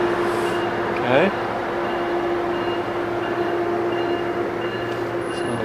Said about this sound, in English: So the train is headed out.